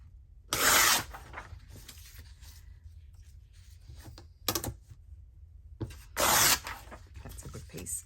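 Strips of paper for a journal are torn in several short, crisp rips, each lasting under half a second, separated by quiet pauses with light rustling, close by and with no voices.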